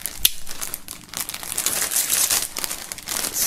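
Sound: crinkling plastic wrap as a shirt is taken out of it

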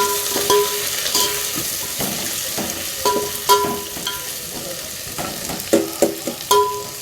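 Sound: onions frying and being stirred in a pan for biryani

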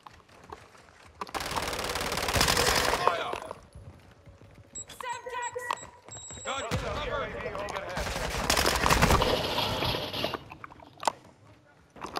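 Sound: gunfire in the video game Call of Duty

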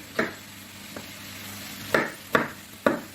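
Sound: chicken fillet frying and sizzling in a pan

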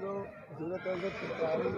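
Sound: horse (mare) neighing at horse market

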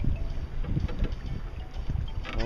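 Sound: wind while sailing on a reservoir

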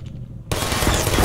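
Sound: turret firing in Portal video game

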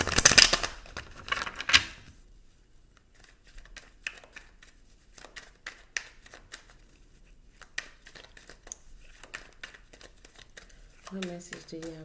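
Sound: tarot card deck being shuffled

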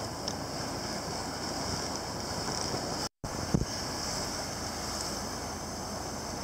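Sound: boat moving up the river with wind

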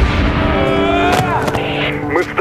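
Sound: gunfire and explosions in a war film battle

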